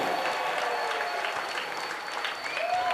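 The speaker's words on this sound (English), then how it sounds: "one more round of applause for a great first fight of the evening" Sustained applause from an arena crowd at an MMA event, following the opening bantamweight bout of the night; dense, steady clapping at full strength throughout with a faint murmur of voices.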